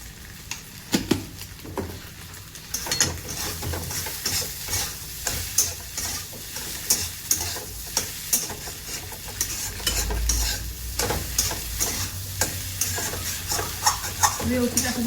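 Egg roasts with turmeric in a pan while being stirred, a rhythmic series of spatula scrapes and knocks over a constant sizzle, close and fairly loud.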